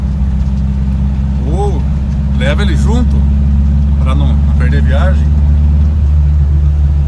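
A Volkswagen Beetle (Fusca) engine idles steadily close by, a constant low throbbing hum running beneath someone speaking throughout.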